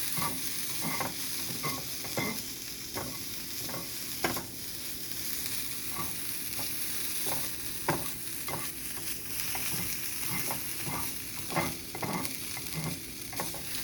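Sliced turkey deli meat frying on a street-taco griddle with lemon juice, steady close sizzle with frequent scraping clacks of a spatula stirring and flipping, no voices.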